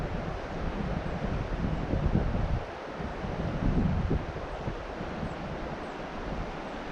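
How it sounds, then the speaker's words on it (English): Gusty wind blowing beside a trout stream, a steady rushing buffet that swells and eases in waves, close and fairly loud, with no talk. "Man, that wind is killing me today."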